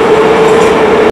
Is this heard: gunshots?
no